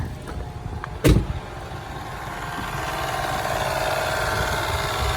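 A 1999 Toyota 4Runner engine runs quietly at idle with a steady, smooth low rumble, after an abrupt louder clunk near the start; no one speaks.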